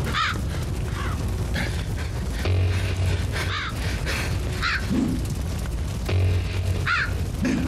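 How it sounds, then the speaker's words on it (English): Crows repeatedly cawing in the video game The Last Dead End, several harsh calls scattered across the clip over a dense, rumbling game soundtrack with low booms. "Although I've got crows on me, which is never a good thing."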